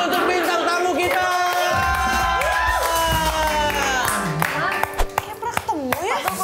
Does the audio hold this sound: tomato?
no